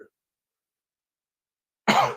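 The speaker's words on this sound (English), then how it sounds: "I have a little cough today." A single short cough rings out after a long silence, close and fairly loud.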